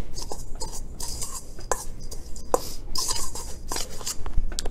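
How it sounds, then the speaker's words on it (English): Dry ingredients being stirred together in a bowl give off a steady scraping and tapping of utensil against the bowl, continuous and close, with no talking. "So I'm just gonna mix these dry ingredients up."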